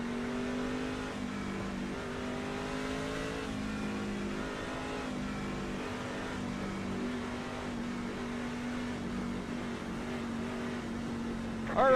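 A Chevrolet Silverado race truck engine in iRacing at Phoenix International Raceway drones steadily, its pitch shifting in stepped rises and dips as it revs, loud and continuous with no talk.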